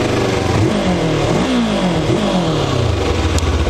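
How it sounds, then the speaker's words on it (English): A Morbidelli T352X motorcycle engine revving up and down, its pitch climbing and falling in repeated swells over a steady loud drone, heard up close and alone without any talk. "an engine that is powerful enough and good enough and sounds like a street motorcycle"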